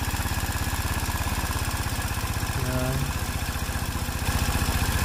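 A small engine with a stock carburetor idles at a steady, rapid, close chug while its carburetor is being adjusted, and a single brief spoken word sits over the running engine.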